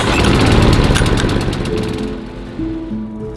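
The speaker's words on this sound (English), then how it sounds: "Our lawn mowers, cutters," A lawn mower engine running loud and close at first with a broadband rough drone, then easing off and thinning out as it slows or moves away.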